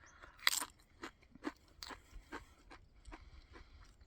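Someone crunching a moderately spicy Chiloso tortilla chip from Downriver Chip Co., a series of faint close bites and chews, sharp crackles spaced unevenly over a few seconds, no talking.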